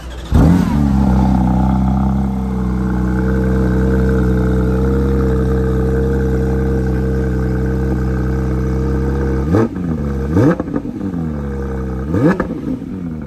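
A new Porsche 911 GT3 RS at a car show holds a loud, steady engine note close by, then blips the throttle in two sharp revs near the end. No one speaks over it.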